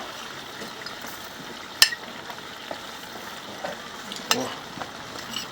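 Chopped green onion and parsley sizzle in a hot frying pan for Georgian ojakhuri, a steady soft crackle with a couple of brief clinks of a stirring utensil.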